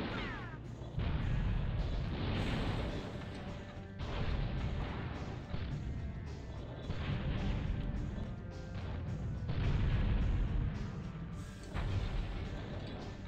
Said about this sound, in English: I have to use grenades, apparently.